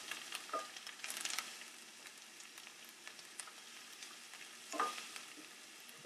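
Scallions, mint and parsley sautéing in a pan for stuffed grape leaves, a quiet steady sizzle with a few louder bursts of stirring and crackle, no talking.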